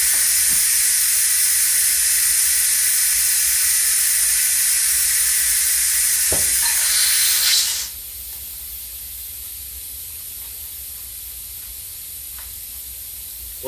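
Loud, steady broadband hiss of air escaping from a tire being aired down after mounting with tire spoons, running continuously for about eight seconds before cutting off abruptly, leaving quiet room tone with a couple of faint clicks.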